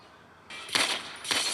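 Gunfire in the video game GTA San Andreas during a drive-by comes after a quiet start as two loud, harsh bursts about half a second apart.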